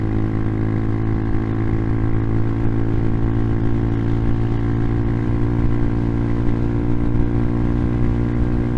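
A fully modded 2022 Amazon Hawk 250 motorcycle climbing uphill in fourth gear at about 55 mph, a loud, steady droning engine note held without letup, with wind noise and no talk.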